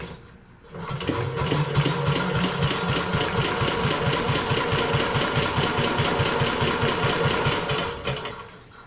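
A WW2-era engine cranks over on the starter during a compression test, a loud, even chugging rhythm that keeps up for about seven seconds before it stops.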